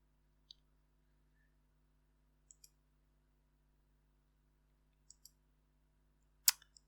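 A computer mouse clicks during a software installation on a PC, a few faint, crisp single and double clicks spaced apart in an otherwise quiet room, ending with a slightly louder click.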